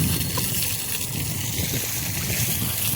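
Steady rushing water fills the clip, a continuous broadband wash with no breaks, loud and close.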